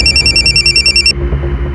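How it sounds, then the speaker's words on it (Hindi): An incoming call rings on a telephone in a crime drama, giving a rapid pulsing electronic ring, loud and close, that stops partway through and leaves a low background hum. "उसी नंबर से फोन आया।"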